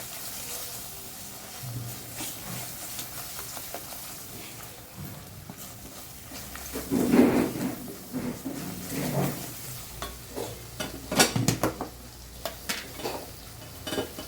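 A spoon stirs Kashmiri chili powder, garam masala, coriander-cumin powder and turmeric into paneer lababdar gravy in a pan, giving soft scraping and gentle sizzling with a few louder clinks of the utensil against the pan.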